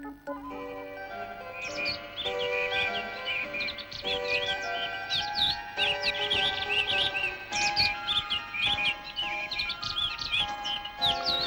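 A whimsical piano played in bird-like chirping phrases for a dance lesson in a Polish cartoon tale, with bright trills and tweeting runs over a steady melodic accompaniment, continuous and fairly loud throughout.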